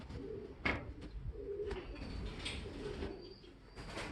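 Racing pigeons coo repeatedly in soft, low rolling calls, close by and steady against faint background noise.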